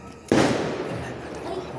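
A firecracker set off outdoors during a New Year celebration. A single sharp, loud blast is followed by a rumbling decay that fades slowly over the next second and a half.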